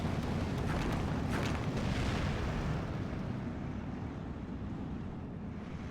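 Mortar fire and strafing aircraft in the wartime strategy game Steel Division 2 produce a dense, rumbling wall of explosions and booms, loud and continuous at first and slowly easing off toward the end.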